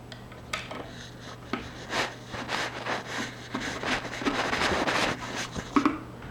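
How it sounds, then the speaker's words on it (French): An intercom mounting bracket is screwed to the wall by hand. A run of rhythmic scraping, grinding turns comes at close range, each stroke short and rasping, with small metallic clicks near the end. "Là je vais le visser."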